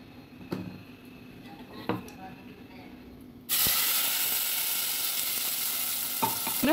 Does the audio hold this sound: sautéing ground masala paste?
yes